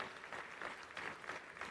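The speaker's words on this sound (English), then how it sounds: "Please give him a big round of applause." Audience applause at a formal event honouring Manish Sisodia, Deputy Chief Minister, a steady wash of clapping that is fairly faint and distant, with no talk over it.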